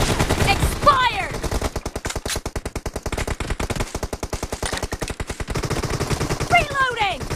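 Sustained automatic fire from an M416 rifle in a video game, a loud rapid rhythmic burst of shots running nearly the whole time, with sweeping whistle-like effects near the start and end.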